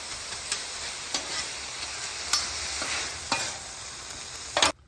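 Cheesesteak meat and melting cheese fry on a flat griddle, giving a continuous close sizzle broken by several sharp scraping stirs of a spatula, with no voices.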